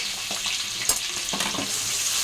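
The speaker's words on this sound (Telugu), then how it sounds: "బాగా ఫ్రై చేయాలి." Turmeric and ginger-garlic paste fry in a pan for a fish curry, a steady close sizzle with a few stirring scrapes and one brief sharper spatter.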